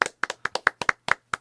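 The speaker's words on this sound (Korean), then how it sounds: "박수 한번 쳐주시고" A few people in a podcast studio clap by hand, about nine crisp, close claps in a quick uneven rhythm with no talking over them.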